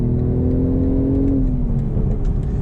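A 2025 BMW Z4 M40i with a manual transmission accelerates, its engine droning loud and close with a rising-then-easing whir and steady road roar, no voices.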